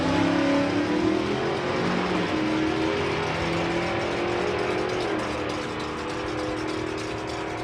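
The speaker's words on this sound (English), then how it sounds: "Ford Mustang, I've seen that car a few years around." A Ford Mustang drag racing car accelerates hard at a drag strip, its engine roaring loud and close, then the pitch shifts and the sound eases slightly as it pulls away.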